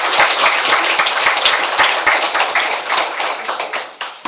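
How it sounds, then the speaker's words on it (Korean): A crowd applauds steadily at a New Year's greeting ceremony in Jongno, Seoul, many hands clapping together at close range, fading slightly toward the end. "큰 박수 부탁드립니다"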